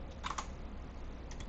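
Two short bursts of keystrokes on a tablet keyboard, a quick pair of clicks near the start and another faint pair near the end, against a steady low room hum with no talking.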